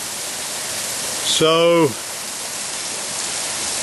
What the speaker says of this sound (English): And there you can see it cascading down into the river